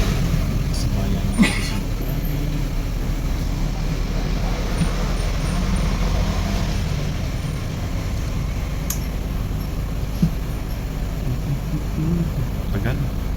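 Steady city road traffic rumbles from inside a moving bus on the 8A route in Macau, with a continuous low engine drone, occasional brief clatters and a faint brake hiss, while people talk over it.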